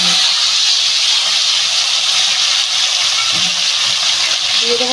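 Potatoes frying with salt in a pan for a catla fish and potato curry give a loud, steady, close hiss that runs unbroken throughout.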